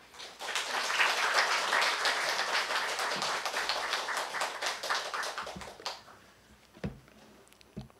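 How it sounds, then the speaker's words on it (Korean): A church congregation applauds to welcome a missionary to the stage. Dense, steady clapping builds quickly, holds for several seconds, then thins out to a few scattered claps and light taps. "나오실 때 박수로 환영하겠습니다."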